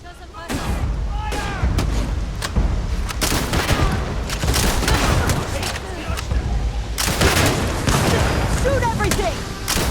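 Heavy gunfire and booming blasts in the sci-fi game Starfield, with rapid volleys and bursts running continuously and loud, mixed with shouted voices.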